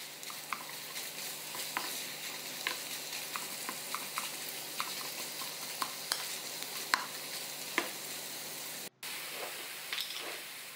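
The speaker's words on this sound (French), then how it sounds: "Je vais venir écraser et séparer les gros morceaux de viande hachée." Ground beef and onions sizzle steadily in a hot pan while a utensil breaks up the meat, with faint repeated scraping taps over the constant frying hiss.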